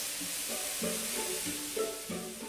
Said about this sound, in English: Keep turning and just get them brown.